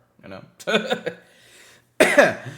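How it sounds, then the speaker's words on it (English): A podcast host with a cold coughs in a few short, sharp bursts separated by brief quiet gaps, close to the microphone. "sorry about all the coughing because I'm actually sneezing a lot"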